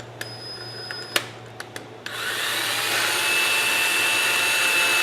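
A few sharp clicks and taps, then a power drill whirs up and runs steadily at high pitch, close by, with no talking, drilling into wooden rings of a turned cryptex.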